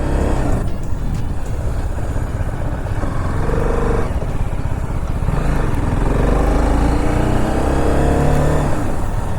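A BMW G 310 RR motorcycle ridden on a short race track, its engine droning steadily and loud throughout, rising and falling gently with throttle, with wind rush and no talk.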